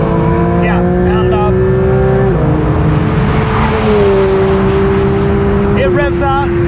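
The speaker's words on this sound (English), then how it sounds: "engine sounds as good as always. It delivers 525 horsepower" A Porsche GT3 RS with a 525-horsepower engine revving to 9,000 RPM sings loudly and steadily through rising gears, with a shift break midway, while people talk over the close engine noise.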